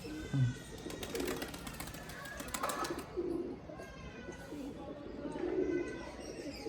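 Pigeons at a home loft give several soft, low coos spread through the stretch, fairly close but quiet, while someone speaks intermittently nearby.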